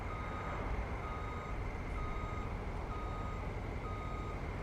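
A truck's reversing alarm in the Farming Simulator video game as it backs up to a bakery, evenly spaced electronic beeps repeating over a steady engine rumble, with no talk.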